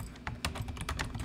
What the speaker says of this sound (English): So we just start typing.